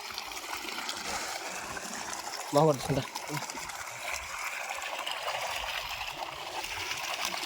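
Cold water flows steadily with a soft, continuous wash in an open chickpea field, and a short burst of voice breaks in near the middle.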